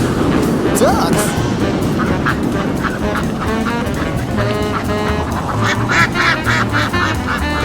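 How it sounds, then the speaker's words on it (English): A flock of ducks quacks over a loud, rushing, windy background, the calls growing busier and more clustered toward the end. "Ducks?"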